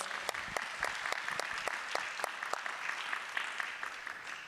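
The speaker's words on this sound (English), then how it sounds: "Big round of applause for the panelists" Audience applause for the panelists at the close of a plenary session on financial resilience, a moderate spread of claps with some sharper individual claps standing out, steady and fairly distant throughout.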